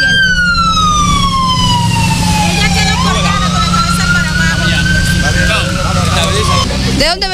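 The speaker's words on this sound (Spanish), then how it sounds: "Llegó otra ambulancia de las que están ubicadas aquí." A loud wailing ambulance siren sweeps down and back up in pitch over a constant engine rumble, with a brief clatter at the end.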